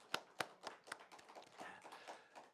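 Scattered hand claps from a church congregation during an afternoon praise service, a few sharp near claps at first thinning into softer, quieter clapping.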